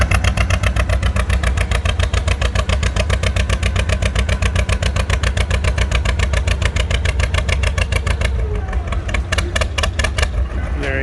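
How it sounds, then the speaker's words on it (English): Farmall MTA antique tractor engine at a tractor pull, running loud and throaty with a steady rapid exhaust beat throughout, the torque amplifier pulled back under load. "here comes that MTA, and he just pulled the torque amplifier back. And man, that sucker is throaty."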